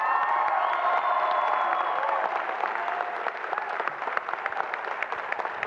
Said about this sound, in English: Let's give our graduate students a round of applause